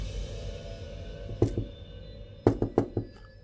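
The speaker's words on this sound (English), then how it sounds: "I heard this knocking sound on the bathroom door." Sharp knocks on a bathroom door: one knock, a pause, then a quick series of four raps, fairly close over a quiet background.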